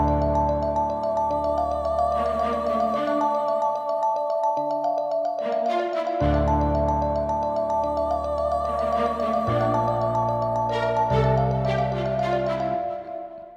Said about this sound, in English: Next I went to expand, used the spiccato up preset right here.